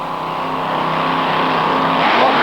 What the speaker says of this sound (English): out comes the clutch, the car launches all the way to the 8th mile